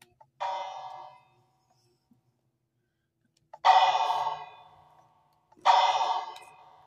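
A bell in the Minecraft video game rings three times, each a bright clear ding that fades over about a second, separated by long silent gaps.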